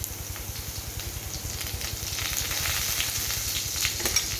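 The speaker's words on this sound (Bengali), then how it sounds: "এর মধ্যে আমি দেব রসুন বাটা। রসুনটা একটু বেশি দিতে হবে, আর দেব কিছুটা গোটা কালো জিরে।" Garlic paste and whole nigella seeds fry in hot oil in a pan, a close, steady crackling sizzle that swells slightly with a few light stirring scrapes, no voices.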